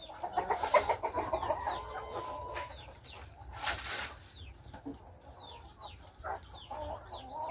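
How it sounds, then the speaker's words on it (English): Egg-laying hens in a cage cluck in a rapid rhythmic burst, then go on with scattered softer clucks and chirps close by over low background noise, with no one speaking. "So we got these new birds. They're finally doing some real egg laying."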